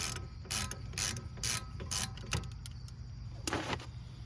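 A ratchet wrench clicks in quick bursts while a 17mm bolt on a Honda Accord rear hub is worked loose, with repeated close, sharp ratcheting strokes and a brief pause before a final burst.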